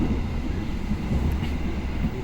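Steady low rumble and rattle of an economy-class Pasundan passenger train with upright seats, heard from inside the carriage as a continuous, fairly loud running noise.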